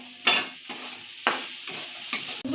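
Vegetables for a vegetarian dal frying in a pan and being stirred, with a steady sizzle and four or five scraping strokes of the spoon spaced about half a second apart, close and moderately loud.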